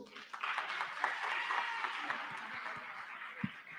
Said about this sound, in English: Let's give them applause